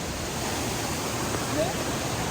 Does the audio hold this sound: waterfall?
yes